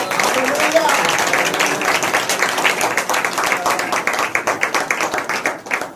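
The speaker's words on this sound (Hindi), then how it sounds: "हम तालियों से स्वागत करते हैं" A congregation at an Easter church service applauds to welcome a guest, a dense, continuous patter of many hands that swells slightly and thins toward the end, with some voices underneath.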